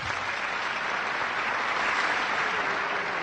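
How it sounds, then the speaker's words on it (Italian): Audience at an award ceremony applauding steadily, a dense, even clapping from a large crowd that fills the whole stretch without pause. "un applauso, se lo meritano"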